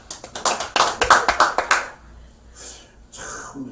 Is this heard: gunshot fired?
no